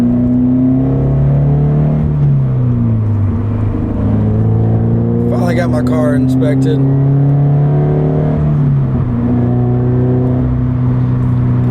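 A Subaru BRZ engine hums loudly while driving, its pitch climbing and dropping as gears are shifted gently, with a person talking over the steady drone.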